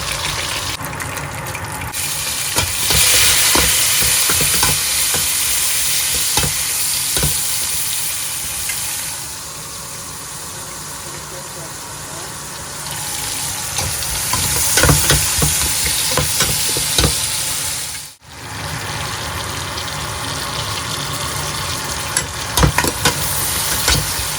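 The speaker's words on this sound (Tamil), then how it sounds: "பாருங்க ஒலிவ் எண்ணெய் விட்டு இந்த மீனை பொரிச்சு வைப்போம்" Loud, steady crackling of fish frying in hot olive oil, with a low engine-like hum beneath and occasional pops and clinks throughout.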